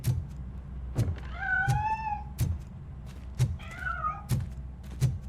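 A cat meows twice with rising, drawn-out cries while escaping in Robocop: Rogue City, set against a quiet room with regular soft thumps between the calls.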